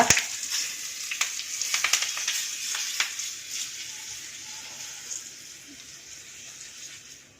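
Curry leaves hitting hot oil with mustard seeds and asafoetida for a tempering, a loud crackling burst of pops at first that settles into a fading, quieter sizzle.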